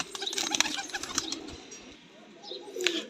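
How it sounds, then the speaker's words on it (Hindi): A breeder pigeon is in a loft setting, with soft coos and rustling wing flaps nearby. Light bird chatter sits in the background, and a few short sharp sounds are heard. "और ये ब्रीडर कबूतर है, ये देख लें माशाल्लाह।"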